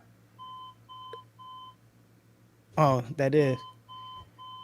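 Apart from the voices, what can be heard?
alarm clock beeping upstairs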